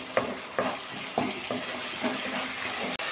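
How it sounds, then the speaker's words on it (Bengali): Spice masala being stirred and fried with jackfruit in hot oil: a steady close sizzle with about six scraping stirs of a spoon at roughly half-second intervals, no talking. "ভালো করে মশলা এবার কষিয়ে দিতে হবে।"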